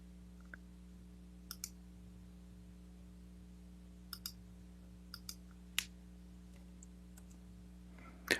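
Sparse keyboard clicks while typing a search query, isolated taps and short pairs over a steady electrical hum, faint and close.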